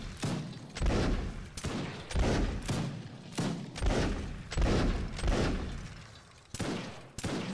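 Rapid, heavy gunfire from a Gatling gun in a video game comes in repeated booming volleys, loud and continuous across the stretch with sharp thumps marking each burst.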